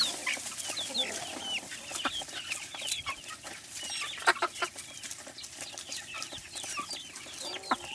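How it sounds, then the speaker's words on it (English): Hand-raised chickens at a farm clucking and chattering close by, a busy flock of overlapping short calls and squawks with no talk. "All our chickens are very friendly."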